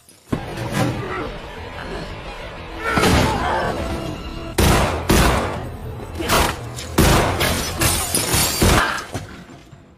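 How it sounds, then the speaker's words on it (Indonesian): Bursts of loud gunfire and impacts from a shootout in the film Death Wish come in several clustered volleys, with crashing and shattering sounds between them, dramatic and close. "Terjadi tembak-tembakan di mana si pelaku akhirnya kalah karena kehabisan peluru."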